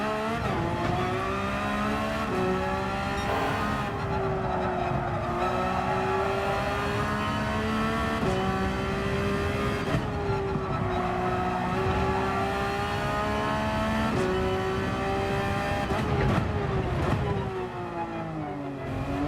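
Porsche 992 race car in Gran Turismo 7 lapping Laguna Seca in a time trial, a loud continuous engine note rising and falling through gear changes and corners, with brief dips on downshifts.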